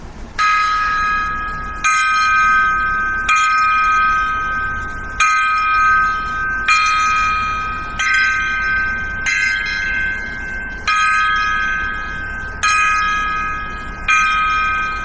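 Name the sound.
ten gong strikes as a salute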